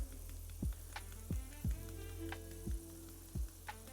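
Food coated in Tony's Creole seasoning fries in a pan with a steady low sizzle, broken by about six evenly spaced soft knocks or scrapes of stirring, close and quiet with no voices.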